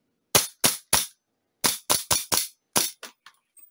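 Shots from an airsoft gun running on a budget HPA system come as about ten sharp, loud cracks, in a quick run of three and then a faster burst of six or so that trails off, with silence between them.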